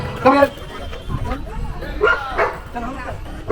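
Dogs bark and yip in short bursts at a Republic Day dog show and talent competition, a few sharp close barks spread across the moment with people talking over them.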